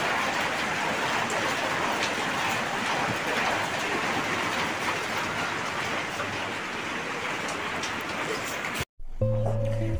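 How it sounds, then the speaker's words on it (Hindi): Steady rain falls during a holiday day at home, a dense continuous hiss that runs evenly for nearly nine seconds before cutting off abruptly, followed by a brief tonal sound. "Until now it's raining."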